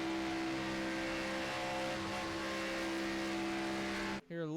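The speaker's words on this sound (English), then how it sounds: "a little blip at the throttle there as they come through turns 3 and 4" Race car engines in a sim racing game at Talladega, a steady droning engine note with sustained harmonic tones as cars come through turns, fairly quiet and constant, then cut by an abrupt break and a brief swooping pitch change at the end.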